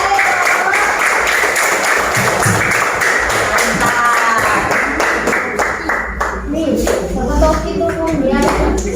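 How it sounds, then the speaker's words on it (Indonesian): Children in a classroom clapping together, loud rhythmic hand claps mixed with lively chatter from kids and a teacher's voice, with shuffling nearby. "Kita sama-sama tepuk tangan dulu untuk pembelajaran hari ini."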